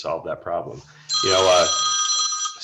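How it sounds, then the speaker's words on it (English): A telephone ringing with a sharp, bright electronic bell tone that starts abruptly after a man's speech and continues steadily for over a second, close and loud. "Excuse my phone ringing."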